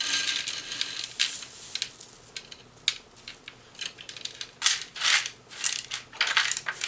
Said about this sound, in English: So all I'm gonna do is just take this bag out, kind of dump it in.